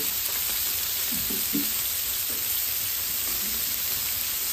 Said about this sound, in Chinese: 喝点酱油炒一下